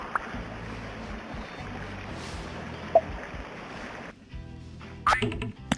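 A small waterfall where a pet dog bathes gives a steady, faint rushing hiss of flowing water that briefly dips near the end, with a few soft knocks and splashes.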